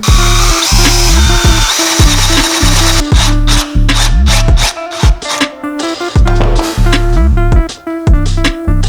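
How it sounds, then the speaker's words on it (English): A power drill with a spade bit bores holes into a wooden inner ring for magnets in a van build, loud and close, with repeated whirring bursts and chattering bites into the wood, stopping and restarting. "Space equal spacings out across our inner ring and start drilling."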